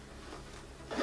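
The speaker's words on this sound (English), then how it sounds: "It has a zipper here." A zipper on a work bag is pulled in one short, quiet run with a faint scratchy rasp, ending in a brief louder scrape, with no talking.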